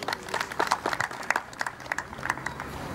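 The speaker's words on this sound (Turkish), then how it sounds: "Öncelikle muhtarımıza kocaman bir alkış alalım" A modest crowd at a village cultural association gathering applauds the village headman with brief, scattered clapping, moderately close and fairly faint.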